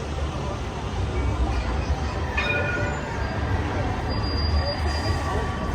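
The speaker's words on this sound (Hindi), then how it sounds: "एक ही सड़क पे ट्राम ही चल रही है।" A tram runs along Princes Street in Edinburgh, a steady rolling rumble with faint wheel squeal, heard close among street bustle and distant voices.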